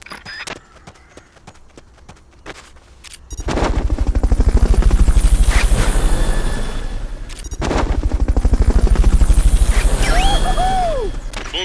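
Fulton recovery helicopter in Metal Gear Solid Peace Walker, a loud game sequence of rapid mechanical clatter and whooshing rotor noise in two surges after a quieter start, with tonal sweeps and beeps near the end.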